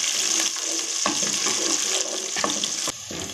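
Onion, cumin and chillies frying in a pan, a bright continuous sizzle broken by a few stirring scrapes and clinks, close up with no talking.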